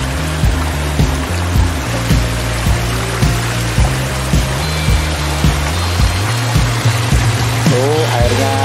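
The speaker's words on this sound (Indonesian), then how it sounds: "Mungkin agak bising karena suara airnya ini" Steady broadband rush of clear river water flowing along a riverbank near a waterfall, loud and continuous, with rhythmic low thumps and a brief tonal sound near the end.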